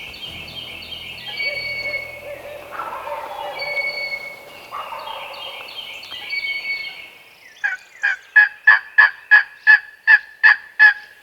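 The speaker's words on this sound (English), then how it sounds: "He was gobbling heavy, answering all of our calls, but would not commit to the setup." A wild turkey gobbles repeatedly from its roost in dense cedars on Missouri public land during a spring hunt, with a steady run of loud, rapid gobbles that ends in a tight burst of sharp, rhythmic notes.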